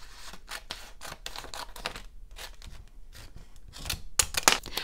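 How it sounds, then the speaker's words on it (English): Scissors snip through heat transfer vinyl sheet to separate designs, a rapid series of close, crisp cutting clicks and rustles at fairly low volume. "So first I'm going to cut the designs apart."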